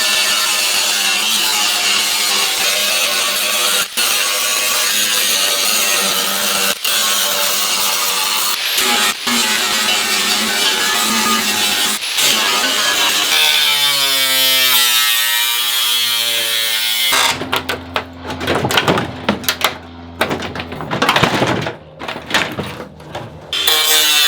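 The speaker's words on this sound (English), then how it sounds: "Then start grinding the top side of this because this is just sandwiched together with spot welds." An angle grinder cuts through the spot welds joining a Porsche 911 door skin to its frame, a steady high-pitched metallic whine and rasp that holds for most of the stretch before breaking into choppy bursts near the end.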